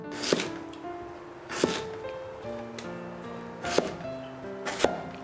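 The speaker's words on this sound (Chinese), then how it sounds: "我们把白萝卜给它切成块，把雪梨一开为2" A knife chopping white radish into chunks and cutting a pear on a board, five sharp, separated thunks spaced about a second apart, close and clear with faint background hum between strokes.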